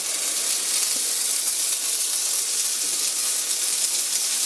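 Thin-cut bacon sizzles in a cast iron pan, giving a steady close hiss with no breaks and no voices.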